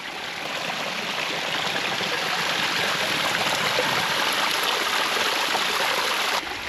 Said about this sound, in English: I like to find a little waterfall for a spigot